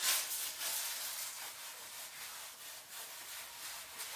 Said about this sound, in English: make sure the BBs are rubbing on every single spot we can get it to rub